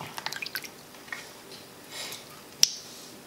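Thin potato slices for chips are dropped into cold water, making a few soft wet drips and squishes, quiet and close, with one sharp tap near the end.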